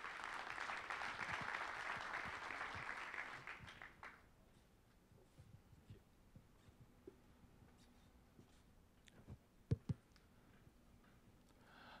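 Conference audience applauds as a speaker is called to the stage at a tech summit: a steady wash of clapping for about four seconds, then fading to quiet room noise with a few scattered taps.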